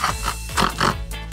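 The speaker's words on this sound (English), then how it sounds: "This is a pig." A pig at a theme park petting area makes several short, loud grunts and snorts close by, in uneven bursts with brief pauses between them.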